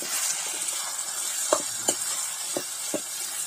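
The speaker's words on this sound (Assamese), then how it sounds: "মাংসখিনি দি অকণ লৰাই দিম" Pork with greens frying in a wok, a steady bright sizzle under four sharp scraping clinks of a spatula stirring the meat, close and moderately loud with no talk.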